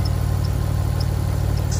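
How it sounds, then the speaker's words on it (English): A Mitsubishi Legnum VR4 engine idles steadily with a low, even rumble and faint mechanical ticking, continuous and close, with no voices. "Engine sounds pretty healthy now."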